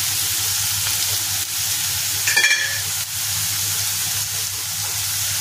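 Dry fish chutney frying in a pan with salt and spices: steady dense sizzling hiss with a low hum underneath, briefly broken by a stir or scrape midway.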